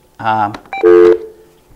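Two short electronic telephone dialing tones sound in quick succession, loud and close, followed by quiet.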